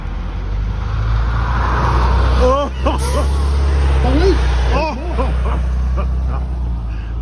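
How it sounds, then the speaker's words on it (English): A vintage transit bus drives past in a parade with a deep engine rumble, while a crowd chatters and people call out nearby. "And this is our last bus in the parade today."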